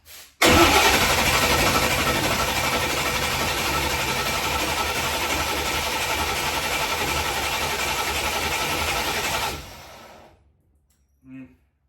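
A dyno-prepped engine with a Waterman fuel pump and smart coils cranks and fires into a loud, steady roar that holds for about nine seconds before cutting off abruptly, followed by a brief faint thump.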